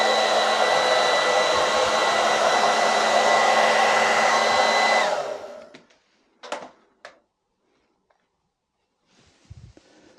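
A hair dryer blows loudly, measured at 106.4 decibels, steadily for about five seconds, then winds down and switches off, leaving a few quiet knocks and handling sounds.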